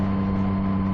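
A lorry's engine rumbling steadily on the road ahead, a low continuous drone heard from a Yamaha MT-09 motorcycle on a countryside road through a wildlife area.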